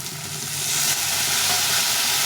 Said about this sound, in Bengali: দিয়ে ভালো করে কষে নেবো